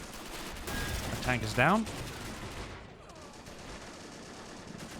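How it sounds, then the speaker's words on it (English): Gunfire crackles in a Men of War battle at an Italian mountain fortress under siege, a steady dense rattle of distant shots with a louder burst near the middle, while a voice speaks briefly over it. "Oh, exchange of fire."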